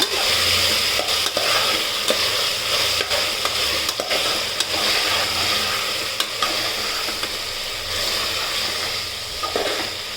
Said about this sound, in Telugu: ఇప్పుడు మనం కట్ చేసి పెట్టుకున్నటువంటి వెజిటేబుల్స్ అందులో వేద్దాం. వేసి బాగా ఈ విధంగా రోస్ట్ చేసుకోవాలన్నమాట.